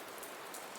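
A rain sound effect plays during a tabletop role-playing game session: a steady, soft hiss of rain pattering on a surface, continuous and even, with no voices.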